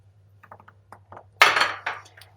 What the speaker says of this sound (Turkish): Ve tekrar karıştırıyoruz.